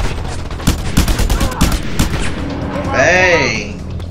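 Gunfire in Just Cause 2 cracks in a quick series of loud shots, followed by a whooshing, sweeping mechanical effect, with characters talking over it.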